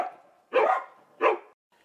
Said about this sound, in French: voilà encore les toutous qui me cherchent.